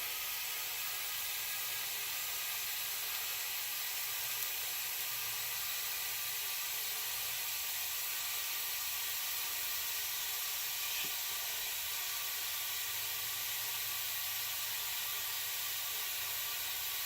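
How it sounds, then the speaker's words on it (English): A steady, quiet fizzing hiss of gas escaping from a butane can continues without a break. "you'll hear when your can's done because it'll just stop fizzing"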